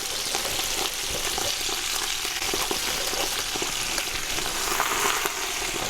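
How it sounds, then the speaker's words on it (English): Two pounds of baby spinach cooking down in avocado oil in a big stock pot, a steady loud sizzle and frying crackle with stirring rustles throughout, no talking. "I'm going to cook this 2 pounds here of baby spinach down."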